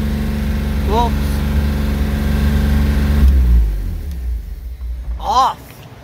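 An original 1969 Jaguar E-type fixed-head coupe engine starting for the first time in 38 years, rumbling loudly with a steady idle, then the engine's roar sags away as it is shut down while people talk nearby.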